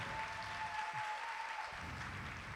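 Theater audience clapping steadily for performer Macy Rodman, a dense sustained patter of many hands at even loudness that eases slightly toward the end, with no talk over it.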